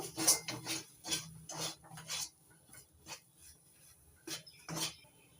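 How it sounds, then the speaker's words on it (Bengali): A spoon scraping and stirring a snack mixture with fried spice powder in a pan, heard as repeated soft clinks and scrapes in an irregular rhythm, close by but quiet. "নাড়াচা করে মিশিয়ে নেব"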